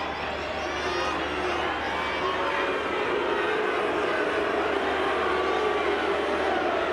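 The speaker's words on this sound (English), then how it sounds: "Terrific crowd in at Leichhardt." Dense stadium crowd roar at a 1999 rugby league match between Balmain Tigers and Parramatta Eels at Leichhardt, a steady, broad wash of distant massed voices and cheering that holds throughout with no clear break.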